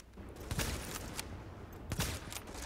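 Enemy gunfire in a shooter game set at Grand Central Station on Hard difficulty: two loud bursts of shots a moment apart over a steady, noisy battle background.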